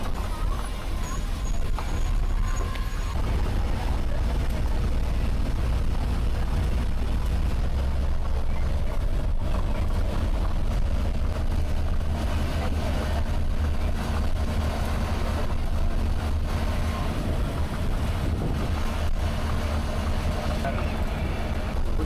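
Cheran Express BS6 bus riding between Karur and Trichy, heard from the driver's cabin: a continuous loud rumble of engine and road that stays steady the whole way.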